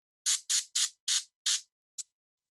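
Airbrush on a miniature from Reaper Miniatures, sprayed up close in five short, controlled hissing bursts with a brief final puff, each burst crisp and isolated against silence.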